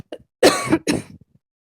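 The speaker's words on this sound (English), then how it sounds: "Coughing straight into the mic." Two harsh, close coughs in quick succession, loud and dry, with a small throat noise before them.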